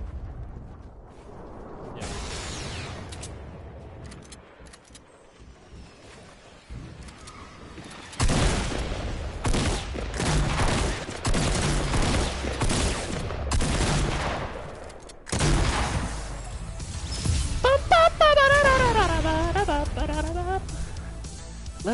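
Sustained support gunfire in a duos battle-royale-style video game, with dense automatic bursts and heavy booms rolling almost continuously, loud and close, while players' voices call out over the shooting.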